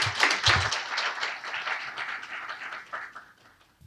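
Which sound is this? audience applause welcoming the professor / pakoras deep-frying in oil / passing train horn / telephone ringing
audience applause welcoming the professor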